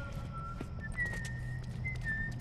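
Someone in The Last of Us: Left Behind whistles a thin, sustained tune of a few held notes that step slightly up and down. It sounds faint and somewhat distant over a low background rumble, with occasional soft clicks.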